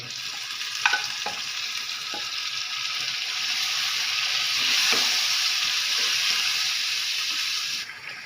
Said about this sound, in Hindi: इसको अच्छी तरह से मिक्स करके 4 से 5 मिनट के लिए इसको भूनेंगे